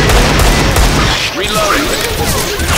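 Rapid gunfire from Left 4 Dead 2, a dense run of shots and impacts mixed with game noise and chaotic talk, loud and close before thinning into scattered sounds.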